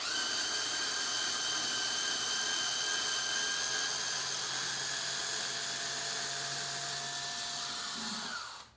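A cordless battery drill runs steadily with a high, whining motor tone as it drives screws, sounding close and continuous before winding down at the end.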